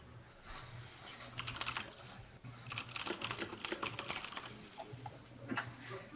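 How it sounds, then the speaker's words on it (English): Fierce, rapid typing on a very clicky mechanical keyboard, a dense run of sharp key clicks in bursts over steady background hum during a Street Fighter IV online lobby. "Someone's typing very fiercely. That's my very clicky mechanical keyboard."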